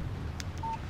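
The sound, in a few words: phone text message alert in the video game Alan Wake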